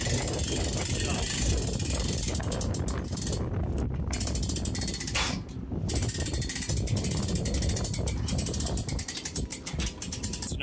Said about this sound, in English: Now that you've used your winch to get the hydraulic calf chute table up far enough